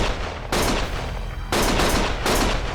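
Gunfire in the video game Lost Judgment: loud, close bursts of shooting come in three clustered volleys, each a sharp crackling barrage that rings on briefly before the next, with no talking.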